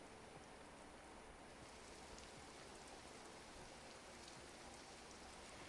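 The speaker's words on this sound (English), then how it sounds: "With the rain droning out the sounds from outside, I quickly fell asleep." Steady rain falls in a video game scene, a dense, even wash of droplets droning without pause, with no voices over it.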